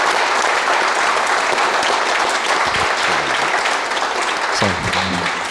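Loud, dense live audience applause fills the room throughout, a steady wash of clapping with a few brief vocal sounds near the end.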